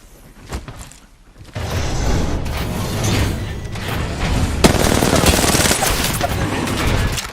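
Gunfire in the battle royale game Apex Legends breaks out after a quiet start, a dense continuous fusillade with sharp cracks and mechanical clatter, loud and close.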